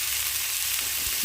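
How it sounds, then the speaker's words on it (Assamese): Paneer masala for a matar paneer dish fries in a pan with a soft, steady sizzle that holds evenly throughout, with a faint low stir near the end. "কেঁচা গোন্ধটো যোৱালৈকে ভাজি ল'ম।"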